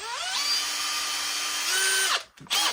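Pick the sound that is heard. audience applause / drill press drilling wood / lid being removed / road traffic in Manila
drill press drilling wood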